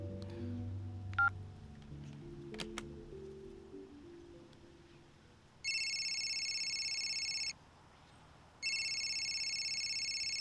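Two long, steady electronic phone ring tones, separated by a short pause, follow a stretch of quiet, low background noise.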